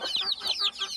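A hen clucks in short, chattering bursts, close and fairly loud, with a rising, squawky tone repeated several times in a brief run.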